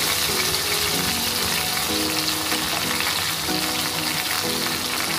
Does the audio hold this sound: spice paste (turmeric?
yes